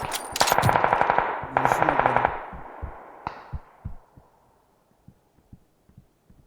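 Gunfire in a shooting video game: a couple of rapid automatic bursts up front, then a trail of softer, scattered distant shots fading out, with no talk.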